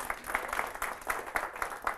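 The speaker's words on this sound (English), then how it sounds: "Another round of applause for Louie." A small group gives a quiet round of applause for a man named Louie at a meeting, a faint, sparse patter of claps with a few distinct beats.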